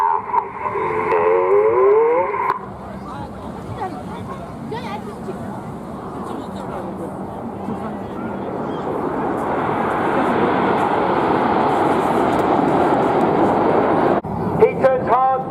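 Red Arrows display jets fly past at the Bournemouth Airshow, a broad distant jet roar that swells gradually and holds for several seconds while a commentator talks over it through a public address system.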